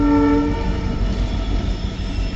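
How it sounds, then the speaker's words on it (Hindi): A train horn sounds briefly at the start, then a passenger train rumbles and clanks under shunting at New Delhi station, the Swarn Jayanti Rajdhani Express from Mumbai moved by a WDP4D diesel locomotive. "ये आपकी स्वर्ण जयंती राजधानी एक्सप्रेस जो कि मुंबई से आ रही है।"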